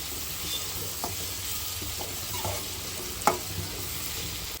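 Chopped tomatoes cook soft in a covered pan for a ladies finger (okra) gravy, a quiet steady sizzle with a few light scattered clicks and one brief sharper tap near the end.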